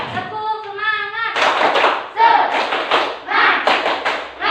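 A classroom of children claps together in a rhythmic cheer pattern during a school lesson, with sharp, loud hand claps and thumps in bursts after a voice leads the chant.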